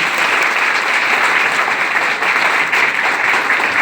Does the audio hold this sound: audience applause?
yes